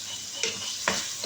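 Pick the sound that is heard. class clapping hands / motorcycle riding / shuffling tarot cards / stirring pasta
stirring pasta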